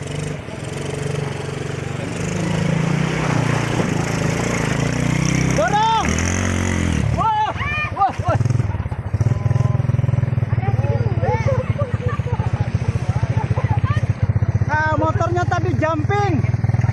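A motorcycle hauling vaccine supplies crosses a river, its engine revving and labouring steadily throughout, with people talking and calling out over the noise.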